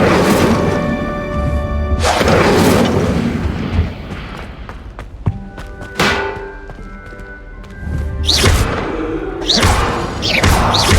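An Incendio fire spell cast in the Hogwarts Legacy video game lands as a series of heavy thumps and booms with crackling bursts, set against a steady bed of game music and ambience.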